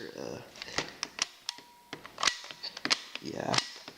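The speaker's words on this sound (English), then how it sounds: "this opens the shutter" Mechanical clicks and snaps from a Kodak VR35 K40 35mm film camera as its shutter opens: several sharp, close, distinct clicks spread across the moment, mixed with handling noise and a brief faint tone.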